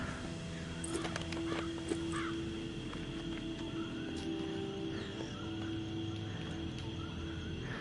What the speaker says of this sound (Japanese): カラスは元気だね。